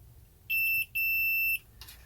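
Multimeter continuity beep while probing a damaged trace on a Model 1 Sega CD with a no-power fault, giving two loud, close, steady high-pitched tones, a short one then a longer one, with no talking.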